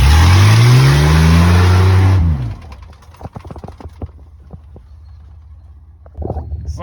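A Ford F100 truck engine revs loud and close for about two seconds, its pitch sweeping up and then dropping off, followed by rapid mechanical clicking and a softer idle with a brief final rise.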